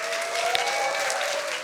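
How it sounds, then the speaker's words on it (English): A live audience at an evening science slam in Berlin claps warmly for the next speaker coming down the stairs, a steady dense round of applause filling the room without pause. "Give him a warm round of applause."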